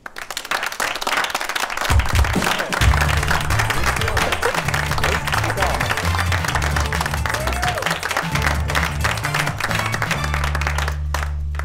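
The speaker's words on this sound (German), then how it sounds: "Aber jetzt begrüße ich mit einem herzlichen Applaus" Studio audience applause welcomes the guitarist of a band on a Swiss TV talk show, with dense, steady clapping from a crowd that runs loud throughout over low musical tones.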